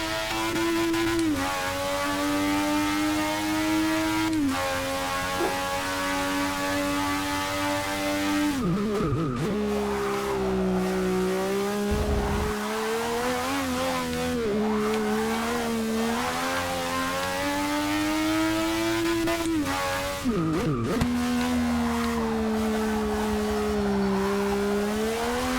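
Ayrton Senna's McLaren Honda MP4/4 race car in Forza Motorsport 6 screams at high revs with no one talking, its engine pitch climbing through the gears, dropping sharply on gear changes and braking, then winding back up again.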